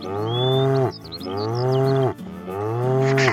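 A cow in an Indian village lets out three long, loud, close moos with brief pauses between them, and nothing else can be heard.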